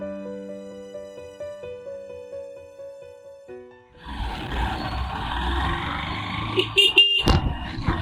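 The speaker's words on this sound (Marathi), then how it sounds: "अरे हॉर्न कशाला वाजवत आहे." Soft tonal music gives way to loud street traffic noise, with short horn blasts sounding near the end over the rumble.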